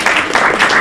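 A short burst of applause at a senate meeting, dense clapping from a crowd, loud and close.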